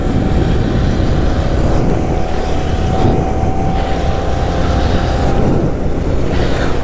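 A Benelli 302R 300 cc motorcycle with its stock exhaust runs close by, giving a loud, steady engine drone that holds an even tone throughout.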